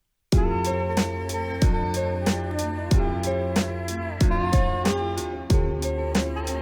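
A hip hop beat with punchy kick and snare hits in a steady loop under a jazzy bossa nova sample sped up from 86.55 to 92.70 BPM, with bright chords.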